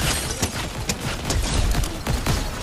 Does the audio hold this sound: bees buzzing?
no